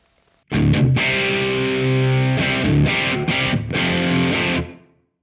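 Distorted electric guitar chords on humbucker pickups ring out through a Fender Mustang Micro Plus headphone amp with heavy reverb, several sustained strums with short choppy stabs, trailing off with a washy tail at the end.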